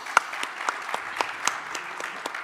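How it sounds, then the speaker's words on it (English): Scattered, sparse clapping from a small audience at a blockchain technology summit panel, a handful of distinct claps ringing out one after another rather than a full ovation. "So I want to applaud them as well with you"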